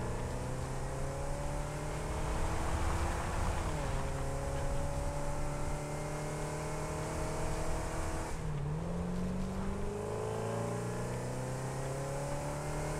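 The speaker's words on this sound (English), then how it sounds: "Car is kind of loud." A car engine in the video game Satisfactory drones steadily and loudly throughout, its pitch rising and dipping as the vehicle accelerates and shifts, with no talking.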